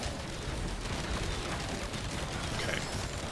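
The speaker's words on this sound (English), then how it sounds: "Legions of explosions and things dying." Explosions and dying enemies in the video game Risk of Rain 2 merge into a dense, continuous roar of blasts and bursts, loud and unbroken, with no voices.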